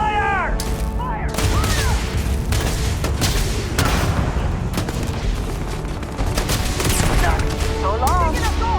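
Heavy sci-fi gunfire in Starfield crackles in dense, overlapping volleys with booming impacts, continuous and loud throughout, while voices shout over the fighting.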